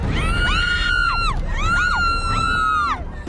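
Happy screaming from a group of riders at a carnival in Naic, Cavite: two long shrill waves of overlapping high-pitched shrieks rise and fall together, loud and close above a low rumble of ride machinery.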